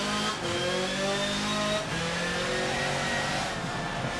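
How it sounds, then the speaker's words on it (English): BMW touring car engine in Forza Motorsport 7 accelerating hard, a steady climbing harmonic roar with quick upshift breaks, close and moderately loud with no talk. "All right, back on the power."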